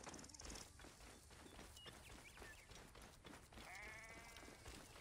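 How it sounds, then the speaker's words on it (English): Goat in Assassin's Creed Origins bleating once, a brief wavering call midway through, heard faintly amid busy rustling ambient game noise. "that's a goat"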